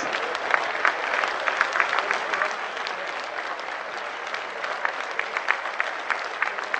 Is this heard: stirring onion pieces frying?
no